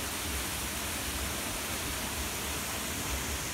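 Kelburn waterfall pouring into its pool at Kelburn Castle and Country Centre, a steady broadband rushing roar with no break, moderately loud and heard alone.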